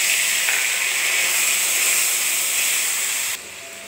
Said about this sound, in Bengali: আলুটা ভেজে নিচ্ছি, একটু ফোড়ন দিচ্ছি, জিরা আর কালো জিরা আর একটা লঙ্কা দিলাম।